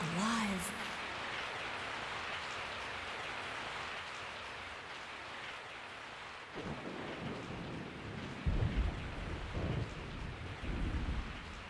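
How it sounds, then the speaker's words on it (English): Heavy rain pours steadily in Resident Evil 3, with a deep rolling thunderclap breaking in partway through and rumbling on under the downpour, plus a brief voice at the start. "I woke up to the sound of falling rain."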